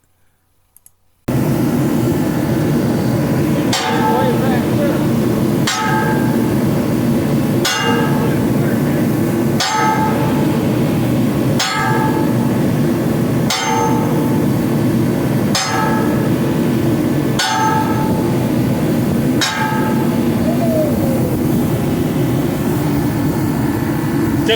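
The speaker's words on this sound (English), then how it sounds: "they're getting ready to slug the nut" A sledgehammer slugs the nut on a ship's starboard wheel in a shipyard, about a dozen loud metallic blows at a steady two-second rhythm over a constant droning machinery background.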